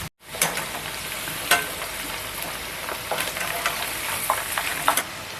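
Chicken kebab pieces sizzle and fry in hot oil with a steady, dense crackle throughout. There are a few sharper pops and stirring scrapes, and no voice is heard.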